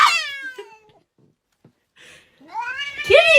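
A guard cat confronting an estate agent, letting out two loud drawn-out meows, the first fading and the second rising into a sharp yowl, separated by a quiet pause with a faint hiss, close and alone.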